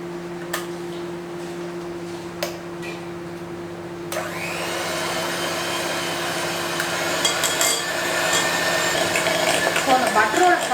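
An electric hand mixer beats softened butter for a pressure cooker carrot cake batter, quiet background with a few clicks before the motor starts and whirs steadily on, growing slightly rougher toward the end.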